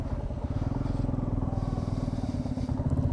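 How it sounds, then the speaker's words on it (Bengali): A motorcycle on a ride from Siliguri into the hills of Sikkim rumbles with a steady, loud, close engine thrum and a fast, even pulse that carries on throughout without speech. "চলো, ফার্স্ট টাইম বাইক নিয়ে সিকিম, ফর মোর অ্যাডভেঞ্চার।"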